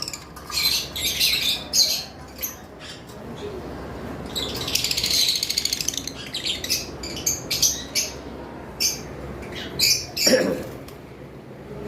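Caged lovebirds, including albino and red-headed birds, giving repeated shrill squawks and chirps in quick bursts, some close and loud, along with wing flutters and cage rustling, busy throughout.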